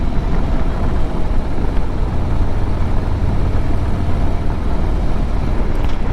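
Steady, loud rumble of a 2025 Harley-Davidson Road Glide engine while riding and downshifting, a dense continuous drone with wind and road noise and no talk.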